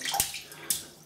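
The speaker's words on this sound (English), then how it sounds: "I'm just soaking the brush in the water," A shaving brush is dipped and swished in water, giving two brief, quiet splashy sloshes with a soft trickle between them.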